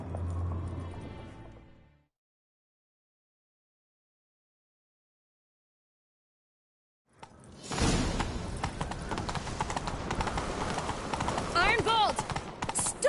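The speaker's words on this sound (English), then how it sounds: "Grab a horse, we'll chase him down." Horse hooves pound in a rapid, continuous gallop in The Witcher 3, loud and close after a short silence, with a faint voice at the very start.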